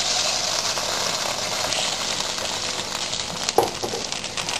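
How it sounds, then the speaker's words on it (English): Beaten eggs sizzle steadily in a hot wok, a loud continuous frying hiss with a brief clatter near the end. "Pour into the wok as if you're going to make an omelette."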